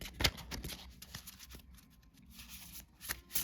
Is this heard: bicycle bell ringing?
no